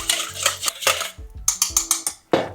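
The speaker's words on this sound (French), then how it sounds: "tac, tu vas venir mélanger" Baker's yeast mixture for pizza dough being stirred in a bowl, with a series of sharp utensil clinks and scrapes against the bowl in an irregular rhythm, close and fairly loud.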